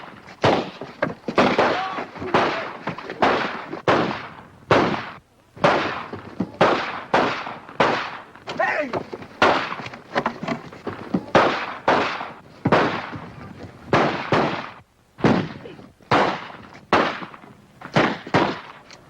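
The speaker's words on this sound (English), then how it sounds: "As a cure for flinching, Sergeant, I suggest a few rounds of rapid fire." Rifles fire in rapid bursts in a 1942 western comedy film, a long run of loud, sharp cracks repeating in quick rhythmic clusters with brief gaps.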